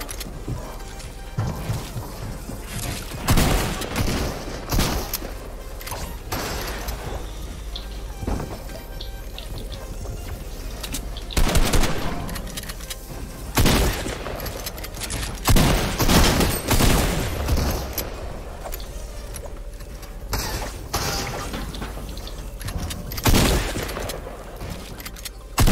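Bursts of Fortnite gunfire during box fights, loud sharp shots arriving in scattered clusters across a long stretch, with quieter game noise between volleys.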